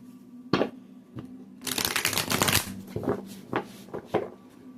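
Tarot cards are shuffled for a four-card spread: a short, crisp riffling burst surrounded by a few soft taps and card knocks, close and fairly quiet.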